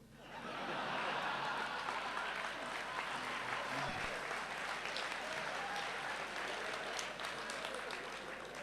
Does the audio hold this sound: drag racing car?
no